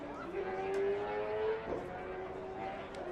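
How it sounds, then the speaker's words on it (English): A motorcycle engine revs with a rising, sustained whine at a college football game between Laney College and Foothill College, heard at a moderate distance over steady crowd and stadium noise. "You can hear a motorcycle revving up their engine"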